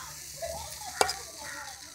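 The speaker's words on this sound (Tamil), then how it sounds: "இப்போ இதேமாரி அடுத்தது அம்மா ஊற்ற ஆரம்பிச்சிட்டாங்க" Appam batter poured into a hot pan crackles with a steady close sizzle, broken by one sharp metallic tap partway through.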